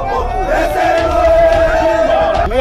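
A crowd greets a governor at an airport with loud, sustained cheering and chanting voices, close and dense throughout, tapering off near the end.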